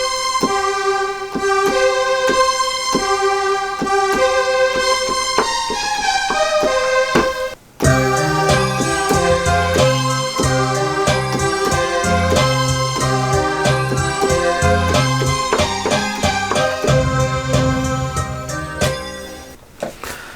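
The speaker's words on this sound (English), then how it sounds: "this final sound is again in bright pads, and it's called Artificially Enhanced number 22" Bright pad synth preset Artificially Enhanced 22 from Xpand!2, sustained shimmering chords, then a brief dropout near eight seconds before a fuller layered section with pulsing notes, loud and continuous.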